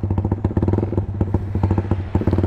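A Yamaha MX King motorcycle engine cranking and firing, with a rapid, uneven thumping putter in short bursts, loud and close, without talk.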